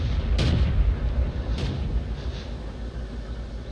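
Artillery fire in a tank battle video game, a World of Tanks style match with a T40 tier 4 US tank destroyer, heard as two or three booming blasts over a constant low engine rumble.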